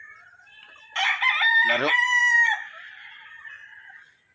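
A rooster at a game farm of straight-bred chickens crows once, loud and close, over a steady high background of other birds, with a brief word spoken just before it.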